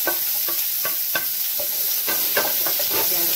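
Onion and green chillies frying in a pan for jackfruit curry, a continuous close sizzle broken by repeated sharp clinks and scrapes of a stirring spoon, no voices.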